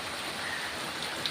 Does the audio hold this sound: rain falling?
yes